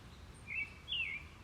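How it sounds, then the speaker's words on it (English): Birds call and sing among shaded trees beside a rugged woodland trail near a campsite, with two thin whistled phrases rising over a soft, steady background hush. "it's lovely, and I love the birds"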